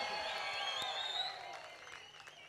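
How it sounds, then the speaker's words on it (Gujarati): Audience applause for Natubhai at a training session, a steady wash of clapping from a crowd lasting throughout, fairly faint and even, easing slightly toward the end. "તો એક વખત જોરદાર તાળીઓ થઈ જાય નટુભાઈ માટે."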